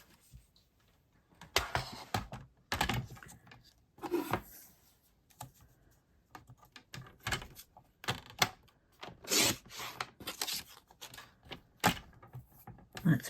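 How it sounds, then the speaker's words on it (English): A paper trimmer slices cardstock while the paper is handled, a series of irregular crisp clicks, slides and brief scraping strokes, close and fairly quiet, with pauses between them. "I'll use my trimmer."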